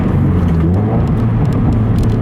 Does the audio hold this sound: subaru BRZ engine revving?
yes